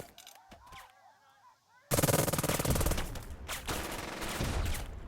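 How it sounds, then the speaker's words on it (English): Sustained machine-gun and rifle fire erupts in the WW2 strategy game Burden of Command, a dense rattling barrage of return fire after a quieter stretch of ambient battle sound, with no talking. "Some return fire there."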